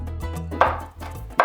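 A knife crushes garlic on a board in two firm, close thuds separated by a brief pause, heard over low background hum.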